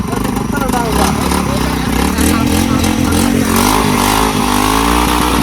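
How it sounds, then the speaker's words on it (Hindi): A motorcycle engine, freshly push-started after it would not start, runs loud and close with a rough steady idle and clatter. Voices talk over it throughout. "बाइक स्टार्ट नहीं हो रही थी उनकी, धक्का लगवाया है भाई। वो शुक्र है चलवा दी है।"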